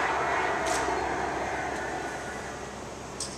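Aircraft powered by a Pratt & Whitney C-Series engine in flight, a steady broad jet roar that fades slowly, heard from a distance without any voices.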